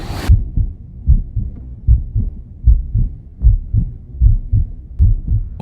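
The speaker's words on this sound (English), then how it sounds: "which, along with her dialogue, had managed to capture her heartbeat" A human heartbeat picked up by a microphone worn on a shirt thumps in a steady double-beat rhythm, roughly seven low, muffled pulses in close succession after a brief burst of noise at the start.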